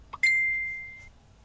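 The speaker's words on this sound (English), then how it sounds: "I have not heard that Facebook bubble in so long." A Facebook Messenger notification bubble chimes once on a phone: a soft tap followed by a bright, clear sustained tone that fades over about a second, alone in a quiet room.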